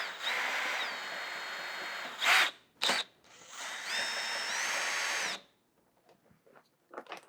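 A power drill whirs in two sustained bursts with short stops between, backing out 8 mm screws on a BMW F32/F33 fender, close and loud, then silence with a few faint handling taps.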